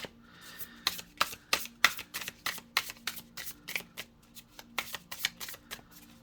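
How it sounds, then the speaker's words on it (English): A tarot deck is shuffled by hand close up, a rapid run of crisp card riffles and slaps coming in uneven bursts, with a faint background hum beneath. "Alright, we'll do some shuffling here"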